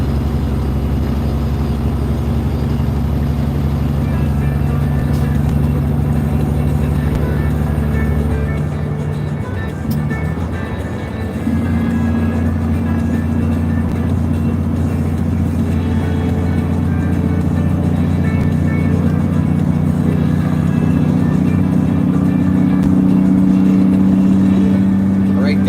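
A truck's diesel engine drones steadily at around 1900 rpm on the open road, a loud, throaty low hum. The tone shifts briefly partway through, then settles into a continuous rumble with no voices.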